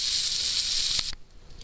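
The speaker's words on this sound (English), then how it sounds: "I'm just gonna try to set the camera somewhere to let it sizzle up" A steak sizzling in a hot pan, a steady loud hiss of frying fat that cuts off abruptly near the end after a couple of soft knocks, leaving quiet room tone.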